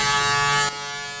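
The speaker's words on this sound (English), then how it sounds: "So let's put the attached trimmer on and do these sideburns first." The attached trimmer of a Braun Series 5 electric shaver buzzes steadily at close range while trimming sideburns, holding loud for about half a second before dropping to a quieter, lower hum.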